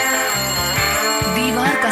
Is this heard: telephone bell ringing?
yes